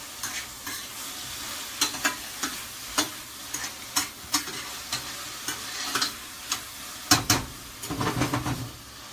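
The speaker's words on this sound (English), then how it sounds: "I'm going to mix it all together." Lemony cauliflower rice stirred in a pan, with a low frying sizzle under repeated sharp scraping and clinking strokes of the utensil, irregular and close, with no voices.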